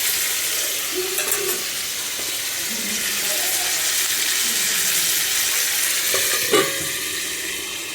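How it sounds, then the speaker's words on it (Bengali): Meat being sautéed (kosha) in a pan, a steady loud sizzle and hiss with a few faint clinks of stirring, continuous throughout and close by, with no speech. "মাংস দিয়ে দিয়েছি, আর এবার খুব সুন্দর করে একটু কষিয়ে নিতে হবে"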